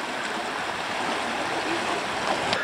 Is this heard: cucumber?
no